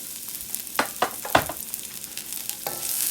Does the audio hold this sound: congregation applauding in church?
no